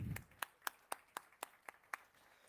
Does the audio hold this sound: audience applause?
yes